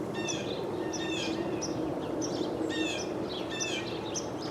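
Birds sing outdoors in a repeated series of short, bright chirping phrases, fairly faint and somewhat distant over a steady background hiss, with no talking.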